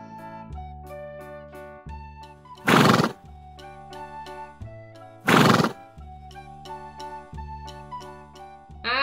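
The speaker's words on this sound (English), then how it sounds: "horse" A horse neighs twice in loud bursts, with clip-clop and jingling, set over a bright, rhythmic children's tune.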